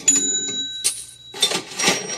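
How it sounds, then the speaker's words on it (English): Cash register sound effect: a quick series of bright mechanical clicks, clunks and a ringing bell chime, crisp and close over about two seconds. "make the cash register ring"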